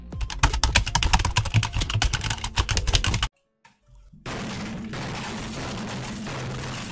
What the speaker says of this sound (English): we can do sounds of typing on a keyboard